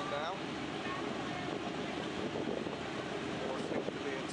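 Four engines of a B-17 bomber idling before taxiing, a steady broad droning roar heard from a distance with some wind buffeting the microphone.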